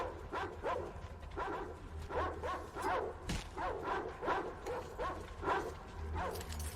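Dog in the video game Metro Exodus, Caspian level, barking repeatedly in a steady series of short yaps over a low background hum, moderately near.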